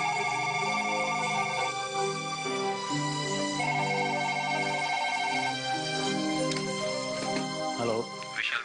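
Melodic telephone ringtone playing as an outgoing call waits to connect, a repeating tune of clear tones with a voice briefly heard near the end.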